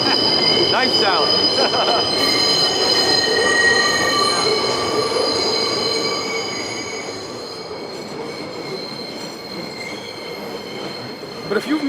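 A train rolls past close by, its wheels squealing in long sustained metallic tones over a rumbling rattle of cars that gradually fades as it moves away.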